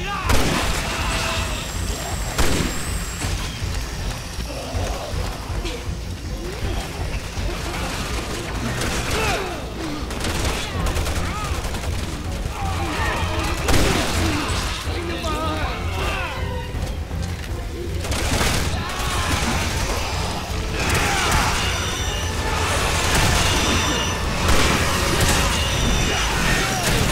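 Gunfire in the Resident Evil 6 video game, repeated shots and heavy booms scattered across a long, dense stretch of battle noise with occasional voices underneath.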